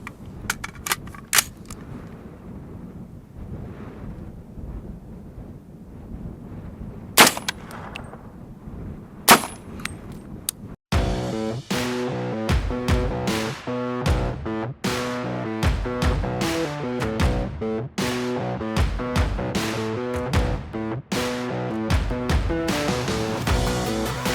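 Subsonic Hornady .300 AAC 190-grain Sub-X rounds fired into ballistic gel: a few sharp isolated shots first, then a dense run of repeated impacts and clanks, moderately loud with no talking.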